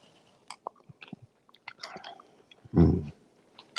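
Someone chewing a spoonful of coconut pumpkin soup with yogurt and pumpkin seeds: soft wet mouth sounds and small crunches, with one louder crunchy bite near the end, close and quiet.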